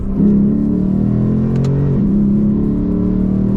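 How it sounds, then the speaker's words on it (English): Inside a 2024 Lexus RC F Platinum, the 5.0 V8 hums loud and close in manual mode, its pitch stepping up sharply at a downshift partway through, then holding a steady rumble. "Shift it to manual mode, a few downshift. Listen to that."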